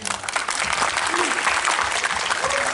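Applause for the cast and crew of the film Mekah I'm Coming fills a short burst, dense clapping from an audience that holds steady throughout while voices come through underneath.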